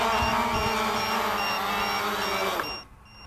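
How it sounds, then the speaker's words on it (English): A Cheerson CX-20 quadcopter's low-voltage alarm beeps in a steady repeating pattern over the loud whine of its motors, which spin down and stop near the end. "low voltage alarm is going on"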